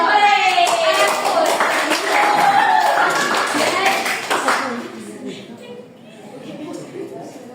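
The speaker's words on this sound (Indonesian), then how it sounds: "Tepuk tangan." A classroom of students claps together in a loud burst for several seconds that then tapers off, with voices chattering over and after it.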